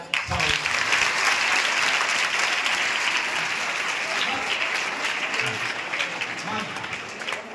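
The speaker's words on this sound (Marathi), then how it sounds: "याच्यासाठी टाळ्या वाजवा" An audience claps in a sustained, loud round of applause, dense and even for several seconds before easing slightly, with some voices mixed in underneath.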